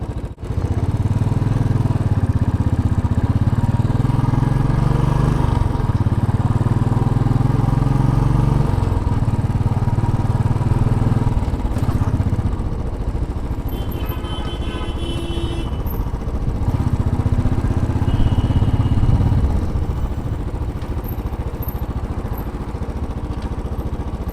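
A Royal Enfield motorcycle engine runs steadily at close range, its low rumble rising and easing with throttle changes over New York City road and traffic noise.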